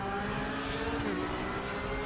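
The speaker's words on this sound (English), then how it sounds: "Hammer the gas onto the straight." A GTR3 race car in the RaceRoom racing game accelerates onto a straight at the Nürburgring, a steady, loud engine drone that fills the clip with a rising pitch and no talk.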